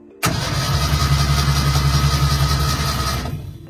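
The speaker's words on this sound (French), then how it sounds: "Maintenant que le démarreur tourne" A starter motor spins the engine of an old, long-abandoned Renault Estafette van. The whirring cranking kicks in suddenly and runs loud and steady at close range for about three seconds before tapering off.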